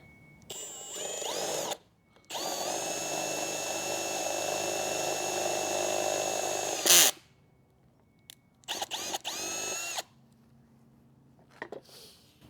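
A power drill with a step bit bores into a part while working on the front end links of a 2015 Subaru WRX: three loud, steady whining bursts, the longest about five seconds, with short pauses between them.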